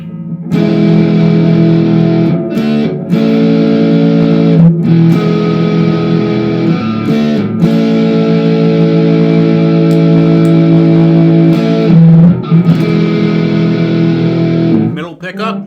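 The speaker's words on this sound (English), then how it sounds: "And now we'll put on some distortion." A distorted Volgoa TN2 electric guitar sustains thick, buzzing chords close up, with brief breaks between strums and a steady gritty tone.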